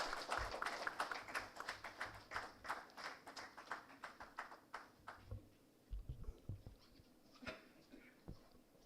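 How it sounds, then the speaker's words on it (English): A modest audience at a medical conference on knee arthroscopy claps in a loose, uneven patter of individual hand claps, fairly faint and thinning out toward the end. "Can we please have a round of applause?"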